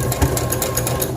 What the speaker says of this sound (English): and I back stitch, and then I come off.